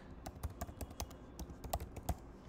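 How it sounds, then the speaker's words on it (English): A name being typed on a computer keyboard: rapid irregular key clicks at close range, fairly quiet, with no talking. "So I'm just going to type some dummy name"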